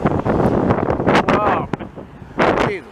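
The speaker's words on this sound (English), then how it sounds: "The wind don't bother me." Gusty wind buffets a microphone on a windy afternoon trackside in Montreal, with loud rumbling bursts mixed with someone talking excitedly.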